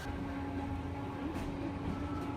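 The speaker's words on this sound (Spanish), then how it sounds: "Hoy todavía en las calles de la ciudad se pueden ver estos viejos tranvías" An old tram runs through the streets of Hiroshima, a steady low rumble of wheels and motor heard faintly and continuously with no clear clatter.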